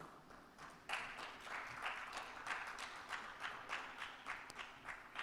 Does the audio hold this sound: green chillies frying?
no